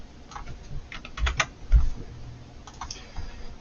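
Several computer keyboard keys are pressed in short irregular bursts of close clicks, with a few heavier key strikes among them.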